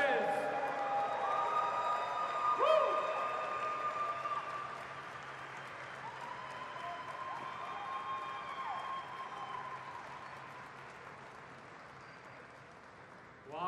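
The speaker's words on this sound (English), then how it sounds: "Please applause for our Lucid Dream Edition stellar white performance." A crowd applauds the arrival of a stellar white Lucid Air Dream Edition electric sedan at a launch event, a broad, moderately distant wash of clapping and cheering that lasts throughout, with a faint electric whine from the car passing.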